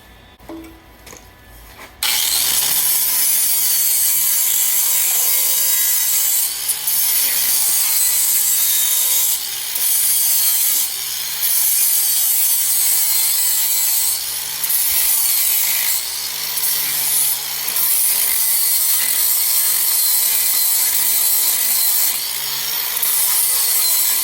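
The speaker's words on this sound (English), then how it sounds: "I'm going to cut a little piece of metal and tuck it in there" A small piece of metal is cut during rust repair under a cap and head, giving a loud, continuous rasping saw stroke that runs steadily for over twenty seconds after a brief quiet start, with slight rhythmic pulses and no talk.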